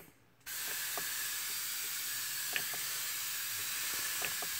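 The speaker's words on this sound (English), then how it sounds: "Get that a little mist." Close, continuous hissing from a spray bottle misting microgreens carries on for several seconds after a quiet start, with a few faint clicks from the trigger mixed in. Nobody speaks.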